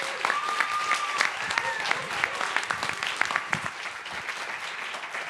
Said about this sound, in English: One more round of applause for all of our finalists this evening.